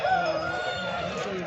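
A rooster crows at a chicken market selling fighting breeds, one sustained close call filling the short moment while faint crowd noise sits underneath.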